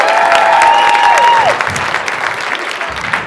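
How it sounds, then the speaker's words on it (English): Steady audience applause at an improv comedy show, a dense continuous wash of many hands clapping with a few whistled tones in the first half, loud and sustained throughout. "By a round of applause"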